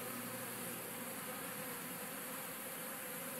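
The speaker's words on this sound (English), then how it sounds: "A lot of bees right at the entrance" A swarm of bees hums at a hive entrance on a humid day, a steady, soft, dense buzzing heard up close and unbroken throughout.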